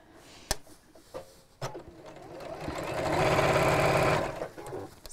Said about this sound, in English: I'm going to sew up to the edge of the seam here